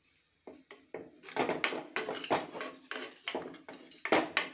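A cooking pot being handled and covered with its lid after coconut oil and curry leaves go in, a run of close, clattering metal knocks and scrapes in an uneven rhythm.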